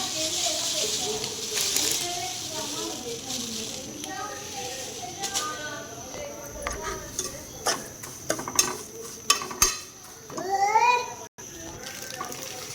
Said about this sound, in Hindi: तो सेवइयों को हम अच्छे से रोस्ट करेंगे 1 मिनट तक।